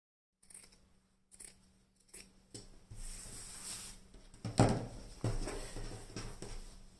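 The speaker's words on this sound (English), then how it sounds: "trim down this seam allowance to about 1/4" Scissors trim a sewn fabric seam allowance on a Bardot top, a run of close, crisp snips and slicing cuts starting sparse and growing denser, heard alone without talk.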